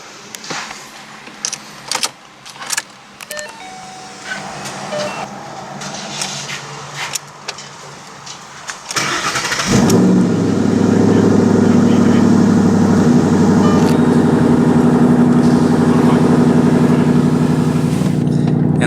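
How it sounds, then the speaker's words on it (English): A 2012 Ford Mustang Boss 302 Laguna Seca with a six-speed manual sits quiet through some clicks and light rattles, then its engine cranks and catches, settling into a loud, rough, steady idle nearby. "And the engine noise itself is actually very, very overwhelming almost"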